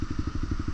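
A Lexmoto LXR 125 motorcycle with only a slip-on end can exhaust, its engine thumping in a steady, rapid low pulse of about ten beats in under a second, loud and close, with no talk.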